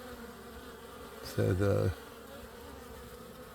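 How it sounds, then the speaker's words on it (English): A honey bee hive buzzes faintly, then a single bee drones loudly and close for about half a second before fading. A few words are spoken briefly. "Pile of new bees coming out. They're all excited."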